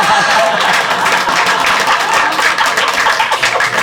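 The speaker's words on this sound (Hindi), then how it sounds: "ताली बजा रहे हैं" An audience at a Hindi stand-up comedy show applauds in a dense, steady wash of clapping that stays loud and even throughout.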